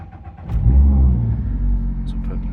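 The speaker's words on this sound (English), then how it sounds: "I start the car" A Mazda car engine starts with a quick crank and settles into a loud, close, steady low rumble, with a few faint clicks over it.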